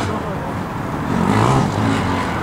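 Formula SAE race car at the 2012 Formula SAE Australasia endurance event passing on track, a steady engine drone that swells briefly mid-clip and eases off, with a faint voice underneath.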